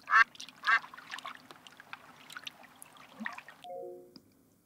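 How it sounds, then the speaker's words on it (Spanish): Several duck quacks burst out near the start in the children's show Blue's Clues & You, followed by softer chatter and a faint trickle of water in the background. "Yo también escucho graznidos de pato y agua"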